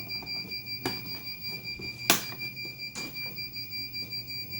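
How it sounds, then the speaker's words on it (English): Faint high-pitched electronic alarm beeping inside a 2011 Chevy Silverado truck during an oil change, pulsing steadily and continuously in the background, with a few sharp clicks and knocks along the way. "Got some beeping going on in here. It's an alarm to something"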